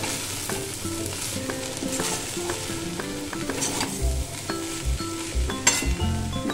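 Fish pieces sizzle in a pan with spices and dry-roasted black cumin while a utensil stirs and scrapes, with faint clinks of metal and low thumps near the end, and no voices.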